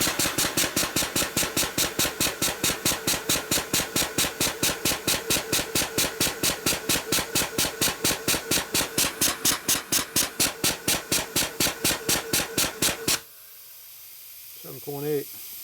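A rebuilt nitrous oxide transfer pump runs with a fast, even mechanical thumping that repeats steadily for about thirteen seconds, then cuts off abruptly and leaves a quiet room with a brief faint sound near the end.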